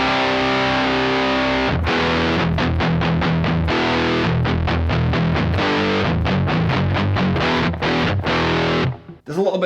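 Electric guitar played through a Sonicake Rude Mouse distortion pedal, loud saturated chords with a fuzzy edge, struck in rhythmic bursts and choppy stops, ending abruptly.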